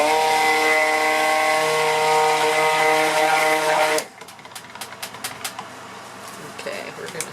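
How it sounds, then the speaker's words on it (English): Stick blender whirring in cold process soap batter, a loud steady motor hum for about four seconds that cuts off, followed by quieter clicks and taps. "Don't need to stick blend much."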